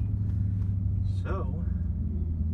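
A Shelby GT500 engine rumbles low and steady close by while someone speaks briefly over it.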